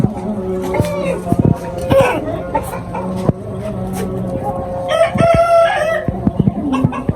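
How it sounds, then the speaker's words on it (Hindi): Crowing comes from a heavy Sindhi rooster in a rooftop poultry setup in Faisalabad, a strong call near the end over scattered clucks, while someone speaks over most of it. "बहुत तगड़ा मुर्गा है माशाल्लाह"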